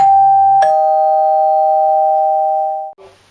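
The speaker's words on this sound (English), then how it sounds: "And also you hear a bell" A bright electronic bell chime for the Mystery Dell segment of a talk show: a single sustained, loud tone that rings for almost three seconds before cutting off.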